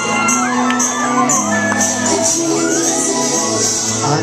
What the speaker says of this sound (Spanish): Ya estamos todos de pie y sean ustedes los que la presenten con la ovación que bien se merece.